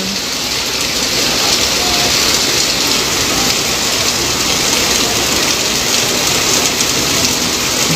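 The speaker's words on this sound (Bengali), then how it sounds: "এখানে দাদা বৃষ্টি কিন্তু বেড়ে যাচ্ছে" Heavy monsoon rain pours steadily and loudly in Arambagh, West Bengal, a dense continuous hiss of drops hitting surfaces with no voices throughout.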